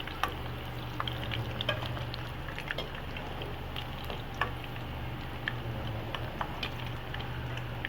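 Pakoras made from gram-flour batter fry in hot oil for kadhi pakora, giving a faint, continuous sizzle with scattered small pops and crackles and no talking.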